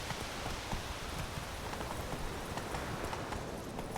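Roach, a horse in The Witcher 3, gallops at full speed through a town, a steady fast clip-clop of hooves over a continuous noisy wash of ambient sound with no talking.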